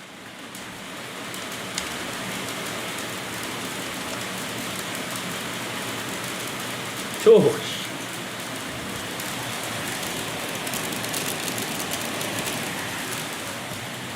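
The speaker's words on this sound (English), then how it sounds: "That is some hail. Yeah, hopefully, if you guys heard that, a massive amount of hail" A heavy hailstorm drums steadily on outdoor surfaces, a dense, constant patter with one sharper nearby knock midway and a single brief spoken word.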